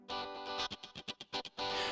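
A distorted electric guitar voice on a Korg Pa4X keyboard, through a distortion insert effect, plays a short phrase: sustained gritty chords, then a few choppy stabs, ending on a held, buzzing note.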